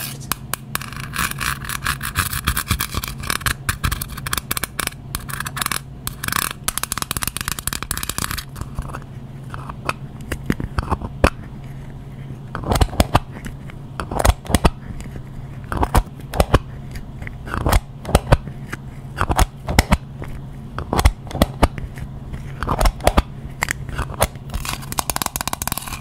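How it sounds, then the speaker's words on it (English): Fast, close-up tapping and scratching on tin metal makes dense clicks and scrapes in irregular bursts, loud and dry with no talking. "So I consider this more of a tin metal sound."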